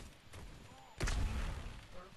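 Sniper rifle shot in the mobile shooter Gods of Boom, a single sharp loud blast about midway that rings out briefly over faint game ambience.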